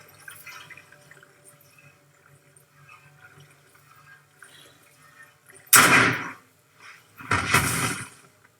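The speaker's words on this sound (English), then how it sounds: "Oh, he shot the cow." Two sharp, loud bursts ring out after a stretch of faint, quiet background, the first near the middle and a second one shortly after, as a cow is shot in a dramatized TV series scene.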